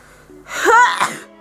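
A single loud sneeze with a sharp wheezy intake, close up and alone against quiet background.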